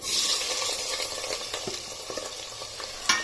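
Sliced onions hiss and sizzle in hot oil over a high flame, the start of a chicken pulao; a steady close frying crackle, with a few sharper pops and stirring clicks near the end and no talking.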